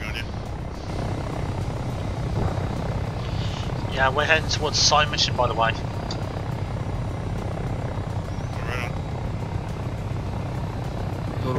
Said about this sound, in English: Yeah, there's a chopper waiting for you.